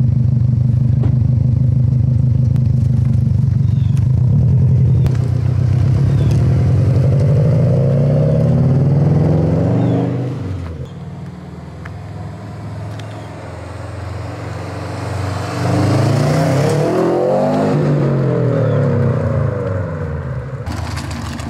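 Subaru STI fitted with an aftermarket exhaust idles loudly with a deep rumble, then blips and revs before pulling away for a short roll; the engine note swells again near the end, close and steady with no talk.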